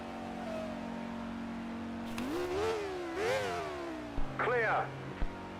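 A V10 race car engine in the game Grand Prix 4 revs up and down in high-pitched whining surges, a few sharp climbs and drops, heard over a steady background hum.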